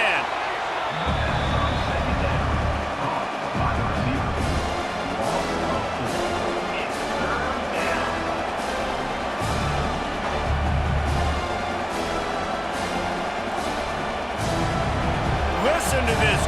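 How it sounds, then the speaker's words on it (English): Roaring stadium crowd in EA Sports College Football 26, a dense, sustained wall of cheering and noise rising to shake the stands during a defensive play, with game commentary running over it throughout. "Listen to this crowd just shaking the girders of this place trying to help their defense."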